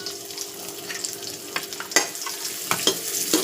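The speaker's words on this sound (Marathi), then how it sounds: "जिरा थोडंसं. कांदा फ्राय करायला घेऊया." Chopped onion fries with cumin seeds in a hot pan, a steady close sizzle broken by sharp crackles, pops and scraping stirs, with no one talking.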